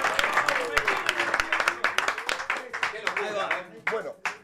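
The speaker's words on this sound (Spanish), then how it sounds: "Un aplauso para los chicos de Volá." Scattered, uneven clapping from a small group on a live stream runs beneath overlapping talk and laughter, with sharp individual claps punctuating the voices.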